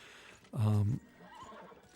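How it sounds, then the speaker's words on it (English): A horse gives one loud, close whinny lasting about half a second, with faint clip-clop and low background sound around it. "This horse was named Tango"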